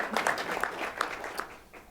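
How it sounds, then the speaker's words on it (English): An audience at a public event at the Washington, DC Convention Center claps steadily for a couple of seconds, a dense patter of applause that fades toward the end. "another round of applause for what they've done"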